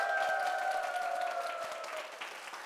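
Studio audience applauding at a televised Korean lecture, a dense steady patter of many hands with a couple of sustained tones ringing over it, slowly easing off across the few seconds.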